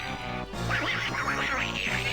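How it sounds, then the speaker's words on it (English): In the Donkey Kong 64 video game, an angry duck quacks in a run of nasal, wavering honks over a dense, continuous game-music backdrop, loud and close. "Angry duck noises."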